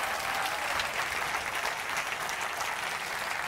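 Steady, dense applause from a large audience at the FameLab 2014 International Final science communication competition, continuous clapping without pause throughout.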